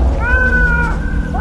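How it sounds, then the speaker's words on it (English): A loud, close cat gives a single drawn-out meow that rises and then falls, ending with a short upward chirp. "Hey, follow the cat."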